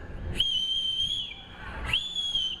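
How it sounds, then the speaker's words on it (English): Two long, clear, high whistles from a person calling a dog named Roy at dinnertime, each a sustained single tone with a short upward start, about a second and a half apart. "And if that doesn't work, well, I just whistle."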